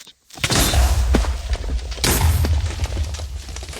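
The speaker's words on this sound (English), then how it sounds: "if you hit J on this, it actually makes it thunder outside" Rumbling thunder triggered by a key press in a video game, two loud booming bursts rolling in close together and sustained throughout, with no speech.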